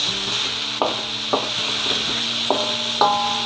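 Pumpkin pieces sizzling in a frying pan as a utensil stirs them, with a continuous hiss broken by a handful of distinct metallic scrapes and taps, close up and without speech.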